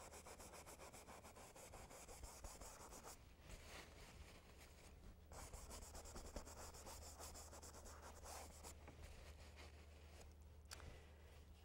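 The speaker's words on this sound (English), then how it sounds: "You can actually hear it, because it is a scrubbing kind of brush." A flat scrubbing paintbrush rubs paint across a canvas while blending a golfer figure, making soft, steady scratchy strokes in a quiet room, with brief pauses between passes.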